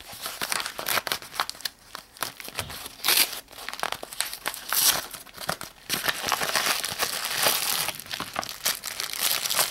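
Plastic packaging of an iPod Touch case crinkling and crackling as it is unboxed by hand, close and busy with irregular bursts of rustling and a few sharper crunches.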